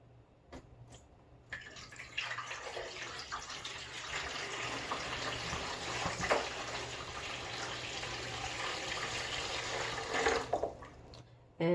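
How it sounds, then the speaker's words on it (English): Water poured into the tank of an Air Care EP9800 whole-home humidifier, a steady splashing stream for about nine seconds, close and moderately quiet, with no talking. "is add some water"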